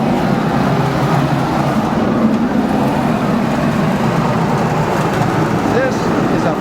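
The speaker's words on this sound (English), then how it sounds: "This is a 5 horsepower electric motor that's original from 1924" An original 1924 five-horsepower electric motor driving an organ blower produces a loud, steady mechanical hum and rumble in an enclosed chamber, and someone talks over it.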